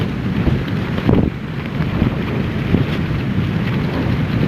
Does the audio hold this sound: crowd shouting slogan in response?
no